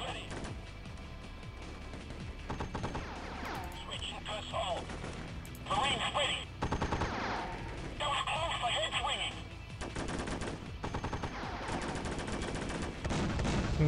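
Video game gunfire in a modern warfare game, repeated shots and bursts mixed with game effects and explosions under continuous talking.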